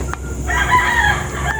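A high action breed rooster crows loudly and close by on a gamefowl farm, one sustained call over a low background hum.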